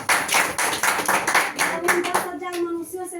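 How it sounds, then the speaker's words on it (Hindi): A church congregation claps hard in fast rhythmic unison for a couple of seconds, then the applause thins out to scattered claps as a voice speaks over it. "खुदावन के लिए जोर से ताली बजाइए।"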